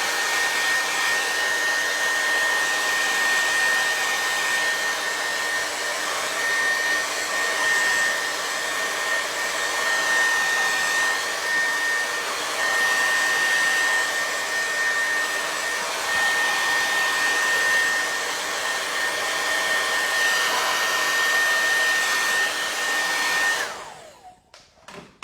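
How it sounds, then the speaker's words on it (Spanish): A hair dryer blows on fresh paint in a close, steady whooshing roar with a thin high whine, holding level for about twenty-three seconds before switching off abruptly near the end. "Voy a darle un pelín para poder ponerlo ya con eso, un pelín con el secador."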